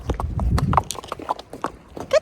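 A pony's hooves clip-clop in an uneven rhythm while it is ridden, close and fairly clear, with brief snorts and light movement noise between steps.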